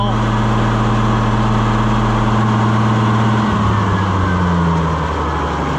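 Oliver 1655 tractor engine running steadily after an in-frame overhaul, a loud, close, continuous low rumble whose pitch shifts slightly partway through as the revs change.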